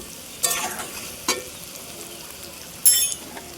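Amla (Indian gooseberries) simmering soft in a pan, stirred with a spoon: three separate scraping strokes spaced a second or so apart, close and moderately quiet over a faint background hiss, with no voices.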